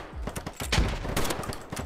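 Rapid gunfire in the shooter game Polygon comes as a rattling burst of closely spaced shots, with one heavy, booming report standing out in the middle. The shots are loud and close, with no talking.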